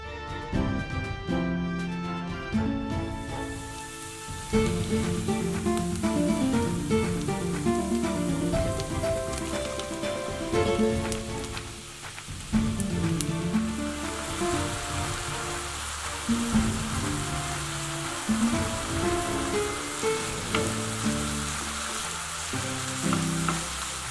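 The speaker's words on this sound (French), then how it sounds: "j'ai épluché et ciselé l'échalote avant de la faire dorer au beurre, puis de lui ajouter les champignons préalablement coupés en morceaux" Chopped shallot and mushroom pieces fry in butter in a pan, giving a steady, dense sizzle that runs throughout beneath a layer of tonal music.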